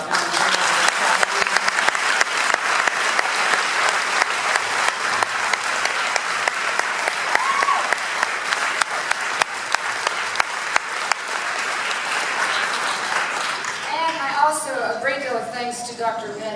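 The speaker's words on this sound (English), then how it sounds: "I know we've all given a round of applause, but for me, please do so" A steady, dense round of applause fills a town hall meeting at an elementary school, continuous and fairly loud throughout, with talking voices emerging near the end as the clapping carries on.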